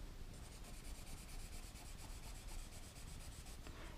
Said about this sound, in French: On appuie très fort sur son fusain.